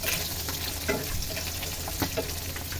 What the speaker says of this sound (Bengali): যেহেতু মাছটা ভোনা করব তাই খুব বেশি ভাজবো না